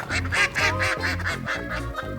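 A duck quacking in a quick run of about eight nasal calls, loud and close, alone with no talk.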